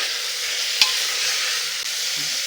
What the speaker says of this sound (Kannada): ಈಗ ಉಪ್ಪು ಹಾಕಿದ್ರೆ ಚೆನ್ನಾಗಿ ಮಟನ್ ಹಿಡಿಯುತ್ತೆ ಅಂತ ಚೆನ್ನಾಗಿ 1-2 ನಿಮಿಷ ಫ್ರೈ ಮಾಡ್ಕೊಳ್ಳೋಣ.